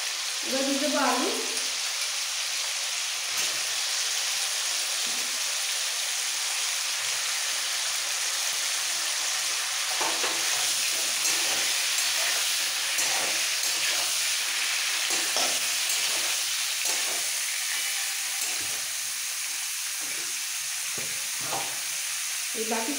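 Potatoes go into hot oil in a pan with pointed gourd and steamed cauliflower, giving a steady loud sizzle and fry throughout with occasional stirring scrapes, and someone speaking now and then.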